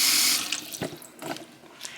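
Tap water gushes into a large pot being filled for water-bath canning, then the flow stops and a few splashes and drips follow nearby.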